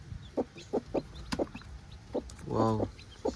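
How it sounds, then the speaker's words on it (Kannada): Chickens and chicks on a farm cluck in a run of short, close calls at an uneven rhythm, with one longer, drawn-out call partway through. "ಫಾರ್ಮಲ್ಲಿ ಕೋಳಿ ಮರಿ ಮಾಡಿದೆ"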